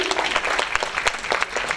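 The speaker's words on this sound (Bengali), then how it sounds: "একটু জোরে হাততালি।" Audience clapping at a stage event, a short burst of dense, close applause from a crowd with irregular individual claps throughout.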